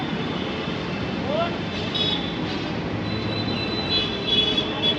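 A Delhi metro train passing along a city street during an evening walk, a steady rumble mixed with road traffic noise, with brief squeals and tonal whines near the end.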